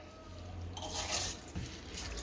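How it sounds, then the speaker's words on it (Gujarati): Water drains off soaked rice in one short, quiet splashing pour, alone in a faint room. "ચોખામાંથી આપણે પાણી કાઢી લીધું છે"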